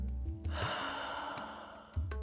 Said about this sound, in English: you can do Ujjayi, which you're making sound